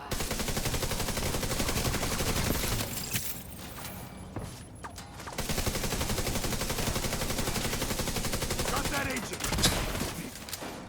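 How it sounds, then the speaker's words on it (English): Rapid automatic gunfire in a shooter game, long loud bursts near the listener broken by a short lull with mechanical clicks, then firing resumes steadily. "some shooting on my part"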